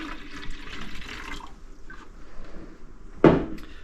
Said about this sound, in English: So I'm just going to fill this bottom with water.